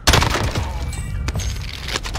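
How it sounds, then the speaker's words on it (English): A sniper round striking glass in a first-person shooter: a sharp loud crack and thump at the start, then a few fainter cracking impacts and rattles trailing off. "Seriously, glass stops a sniper bullet."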